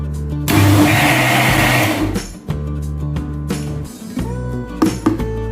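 Mixer grinder whirring loudly as it blends appam batter, a steady high-pitched motor roar for about two seconds, then stopping, followed by shorter bursts and clattering of the jar.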